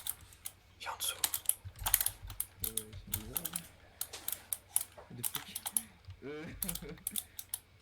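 Rapid clattering keystrokes on a computer keyboard, close and fairly loud in irregular bursts, with people talking over the tapping at times.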